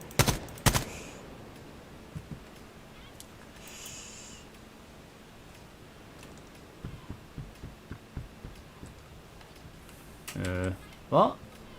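Faint, scattered clicks from a computer mouse with dirty internal contacts, heard in a gaming session over a low background hiss, with a few sharper taps near the end.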